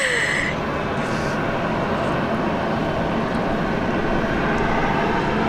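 An airplane at Sydney International Airport rumbles with a broad, steady engine roar. A brief whine near the start fades into continuous jet noise that stays loud with little change, and no voices are heard.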